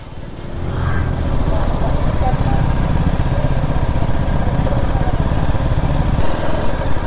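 A KTM Duke motorcycle exhaust gives a loud, continuous engine rumble, close and steady throughout, with wind noise mixed in.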